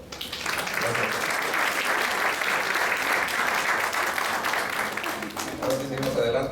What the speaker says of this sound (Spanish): Un aplauso al doctor, por favor.